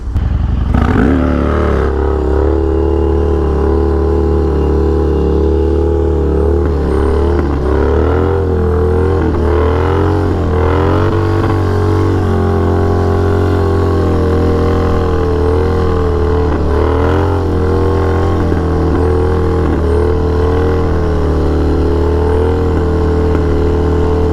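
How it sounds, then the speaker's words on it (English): A motorcycle on a short ride: a loud, steady engine drone fills the whole stretch, rising and falling slightly as the throttle shifts, heard up close with wind rumble and no speech. "even this short ride is just a reminder of why it's great to get out on two wheels"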